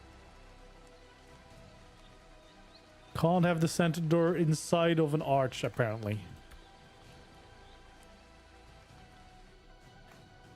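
Rain falls in the video game ARK: Survival Ascended, a soft, continuous patter running the whole time. Someone talks over it in the middle.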